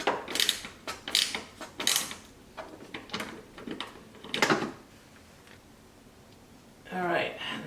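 A wrench tightening nuts on a Z06 Z07 conversion wing fitted to a C8 Corvette: a series of close, sharp metallic clicks and ratcheting bursts, pausing briefly before a final scraping burst, with speech mixed in.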